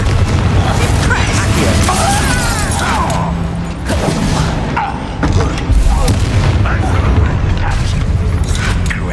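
Bombarda and Confringo spells exploding in Hogwarts Legacy, heard as a dense run of loud booming blasts and crackling bursts packed closely together over a constant rumble.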